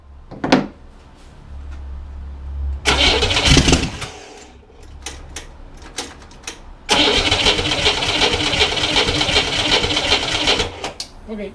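A refurbished Corvair engine cranks and catches, bursts of rough mechanical clatter separated by pauses, then a sustained loud running stretch close up, with a few clicks and knocks between attempts.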